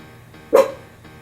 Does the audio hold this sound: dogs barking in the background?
yes